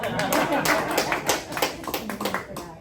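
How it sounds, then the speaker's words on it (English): A small club-meeting audience breaks into applause, a dense flurry of close hand claps that thins into scattered claps toward the end. "Lots of applause."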